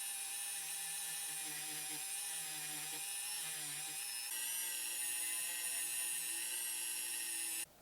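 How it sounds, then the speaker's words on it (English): A small wire wheel spins against the body of a 1968 custom Mercury Cougar with acid damage, giving a steady, high-pitched whine that holds for several seconds before cutting off. "I'm gonna hit it with a little wire wheelie just to try to clean up in here."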